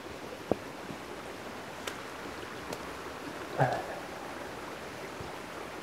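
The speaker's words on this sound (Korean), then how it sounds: "아주 장난감 같은 폭포가 저 계곡에서 이렇게 쭉 흘러내려 가지고" A small, toy-like waterfall runs down a rainy valley into a larger stream, giving a faint, steady rush of water with a few soft clicks and splashes scattered through it.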